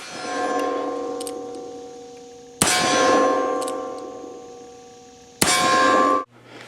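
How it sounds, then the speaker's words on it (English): A .45 Colt revolver fitted with a drop-in cartridge conversion cylinder fires two sharp shots, each followed by a long ringing metallic tone that fades slowly before the next. "Let's put a few 45 Colt rounds downrange with the R&D conversion cylinder."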